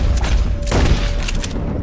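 Gunfire in Red Dead Redemption, a Western video game: a burst of shots cracks over a steady low rumble, with a brief voice among them.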